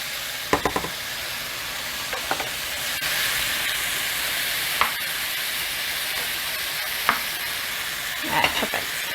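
Shrimp fry in a pan for shrimp scampi, a steady, close sizzle with occasional sharp taps and clicks of a utensil, and no talking.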